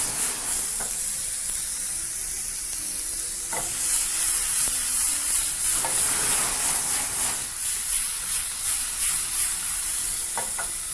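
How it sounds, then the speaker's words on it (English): Beef tossed briefly in a hot pan sizzles steadily for the full stretch, with occasional scraping clicks from stirring and no voices. "Proceed to just toss your meat in your pan very briefly."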